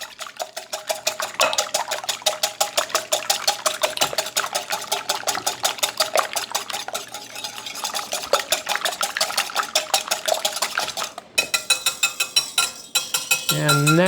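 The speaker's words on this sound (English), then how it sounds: "I have broken 2 eggs into this bowl, and I'm just going to whisk them a little bit to get them stirred up good." Two eggs whisked briskly in a bowl for lasagna filling: a fast, relentless stream of metallic clinks and scrapes against the bowl, close and loud, with a short pause before the whisking resumes.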